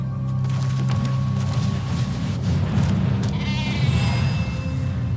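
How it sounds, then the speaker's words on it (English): Sheep bleating in the Magic: The Gathering Arena video game, a few short cartoonish bleats rising over a steady bed of game music. "Innocent little lamb, little sheep."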